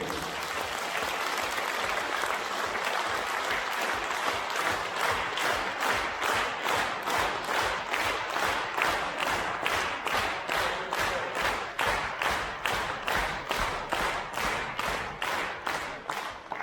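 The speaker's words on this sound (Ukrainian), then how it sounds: "Оплески." Loud, sustained applause from a large concert audience in Ivano-Frankivsk, settling into rhythmic, synchronized clapping toward the end.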